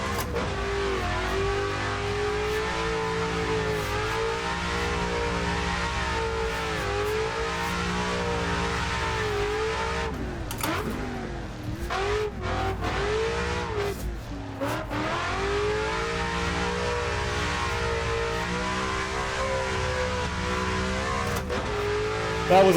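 Race car engine in the Assetto Corsa racing game revs steadily and loudly through the gears, pitch rising and falling with shifts and a brief lift around a third-gear corner, with faint tire noise and no talk.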